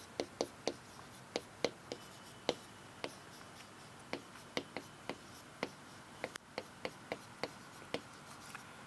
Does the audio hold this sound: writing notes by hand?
yes